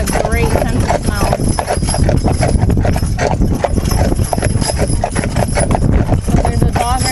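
Percheron draft horses on a Sunday drive clip-clop along in a steady, close rhythm of hoofbeats, loud and continuous, with a person talking over them.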